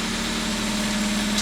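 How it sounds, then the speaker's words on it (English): A garbage truck idles nearby during a trash pickup, holding a constant low engine hum with a steady drone throughout and no talking. "my garbage truck picking up my garbage"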